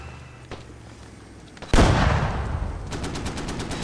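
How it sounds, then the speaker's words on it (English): In the military shooter Squad, an Abrams tank and a Bradley open fire on a machine-gun bunker: a small early report, then a huge close blast at about two seconds followed by a rapid burst of autocannon shots. "The Abrams, he is trying to shoot down the MG bunker in front of him."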